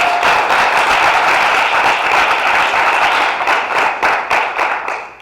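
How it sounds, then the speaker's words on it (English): An audience at a business presentation claps as a round of applause, a dense burst of many hands that stays loud for a few seconds, then thins and fades toward the end. "if you would like to give her a round of applause"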